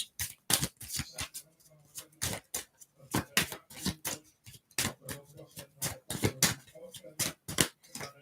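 A Moonology Oracle card deck shuffled by hand during a tarot reading, close rapid riffling and slapping bursts in an irregular rhythm with short pauses between them.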